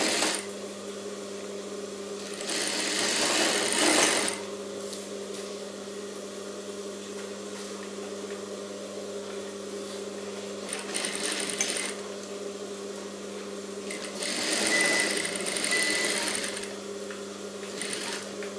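A sewing machine runs in bursts while stitching a blouse shoulder seam, three clear stretches of fast whirring separated by quieter pauses under a steady background hum, nearby and without talk.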